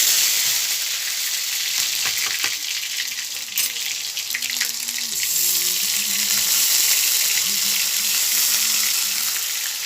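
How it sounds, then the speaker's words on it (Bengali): Onion paste sizzling in hot oil for a chicken varta, a steady loud frying hiss that continues throughout with faint stirring and clinks in the background. "তেলটা গরম হয়ে গেছে, এবারে আমি এর মধ্যে দিয়ে দেবো পেঁয়াজ বাটা"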